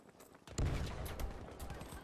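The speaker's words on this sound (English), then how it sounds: "I popped up right in their face and shotgunned them." A sudden close shotgun blast in the Battlefield V shooter game, one sharp booming report followed by a dense, loud rumble of battlefield noise that carries on to the end.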